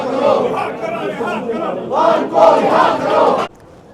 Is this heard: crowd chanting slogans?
yes